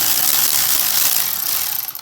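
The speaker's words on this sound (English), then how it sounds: "The easiest way to do this is actually to undo this clamp" Clamp on the air intake hose of a Toyota Prius being loosened, a loud, close, continuous ratcheting clatter lasting about two seconds and tapering off at the end.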